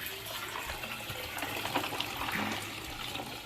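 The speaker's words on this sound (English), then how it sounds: "Alright, so now I'm going to pour that salt water off." Salt water pours off a container of purging clams from Oakland Bay, a steady close splashing gush that swells midway and then carries on evenly for a few seconds.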